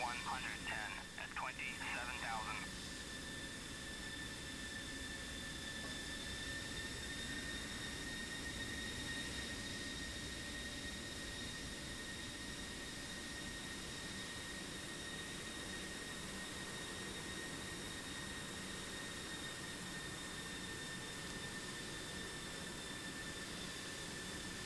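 F-16 Viper jet engine taxiing in the DCS flight simulator, a steady whining hum with a high tonal whine, continuous and even, with a short burst of radio chatter at the start.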